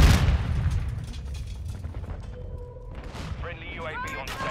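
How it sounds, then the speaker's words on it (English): A friendly airstrike in Call of Duty: Modern Warfare II sets off a heavy booming blast at the start, followed by rumbling explosions and scattered gunfire, with radio-style voices speaking over it. "Friendly airstrike in the AO."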